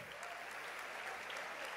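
Church congregation applauding during a sermon, a steady, dense wash of clapping from a crowd, continuous and fairly distant throughout.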